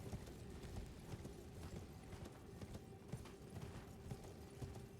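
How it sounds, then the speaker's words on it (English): Horse hooves clip-clop in a steady trotting rhythm while riding a mount in the video game Elden Ring, quiet and even with a faint background hum throughout. "And now we can horse."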